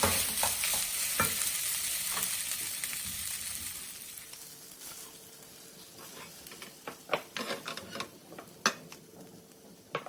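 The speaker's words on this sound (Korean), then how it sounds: "이렇게 밥이 다 볶아지면 이제 그릇에 담아주시면 됩니다." Garlic fried rice is stir-fried in a pan, a loud close sizzle at first that thins out as utensils scrape and tap against the pan in quick, irregular clicks, with no talk.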